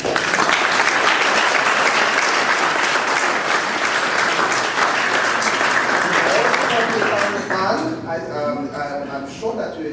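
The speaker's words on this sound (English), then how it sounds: "So I want everybody to give Joel a round of applause." An awards ceremony audience breaks into loud, sustained applause, dense clapping filling the room for several seconds before easing as a voice speaks over the tail.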